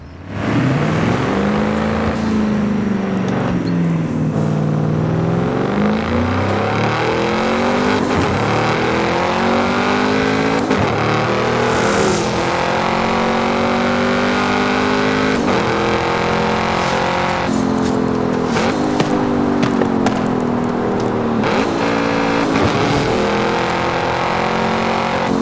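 A Lamborghini Urus engine in Forza Horizon 5 revs steadily for about 25 seconds, its pitch rising and falling through repeated throttle blips and gear changes, loud and close with no talk over it.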